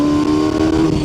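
A car on a road test drive after a tandem master cylinder brake install revs and accelerates hard, its engine note loud and close with a rising strained tone.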